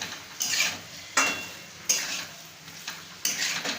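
Boiled, drained mutton liver is stir-fried with spices in a pan, a steady sizzle broken by four loud scraping bursts of a spatula stirring against the metal.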